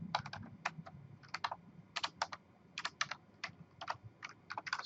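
Typing on a computer keyboard while entering a command at a Linux command line, with quick bursts of crisp key clicks in an uneven rhythm, close and clear over a low background hum.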